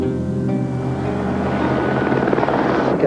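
A rescue helicopter in flight over Auckland, its rotor and turbine droning steadily and loudly throughout with a strong rhythmic chop, no voices over it.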